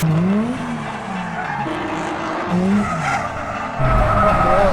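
Toyota JZX100 Chaser drifting on a track, its engine roaring and rising in pitch over a continuous loud tyre squeal, with a surge of revs near the end.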